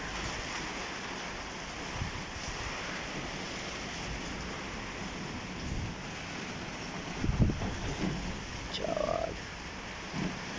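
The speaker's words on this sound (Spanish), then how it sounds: "Nunca se había escuchado tan feo el aire." Strong storm wind roars through Morelia, Michoacán as a continuous, dense rushing wash mixed with rain, swelling slightly in gusts toward the end with a few faint distant tones.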